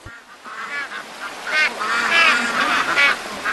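Wetland waterbirds, geese and ducks, call loudly and close by in a dense overlapping chorus of nasal honks and quacks that swells and thickens over a few seconds, with no talking.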